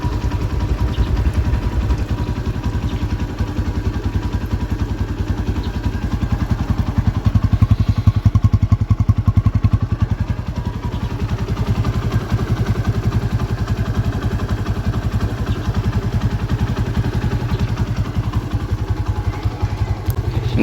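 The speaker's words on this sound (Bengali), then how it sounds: "ইঞ্জিনের সাউন্ড দেখুন, ইঞ্জিনের সাউন্ড কন্ডিশন দেখুন, খুবই সুন্দর ইঞ্জিনের সাউন্ড।" A used motorcycle's engine idles nearby with a steady, rapid thumping putter, holding an even rhythm the whole time.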